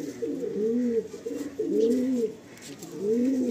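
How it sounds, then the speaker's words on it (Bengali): A pigeon coos nearby in repeated soft, rounded phrases, three or four rolling calls with short pauses between them, loud and close with no one talking. "খুবই ছটফটে পায়রাটা"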